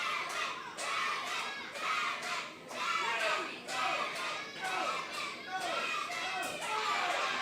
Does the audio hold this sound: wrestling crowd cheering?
yes